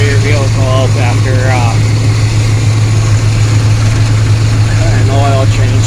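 Chrysler 5.7 Hemi V8 idling just after an oil change, a steady low droning hum close by, with someone talking over it for much of the time.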